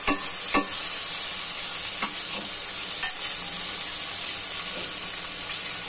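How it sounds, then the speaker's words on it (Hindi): Onions frying in a pan with chopped vegetables and spices for salty vermicelli noodles, a steady close sizzle with repeated stirring scrapes throughout and no talking. "थोड़ा सा, फ्राई करते हैं प्याज को।"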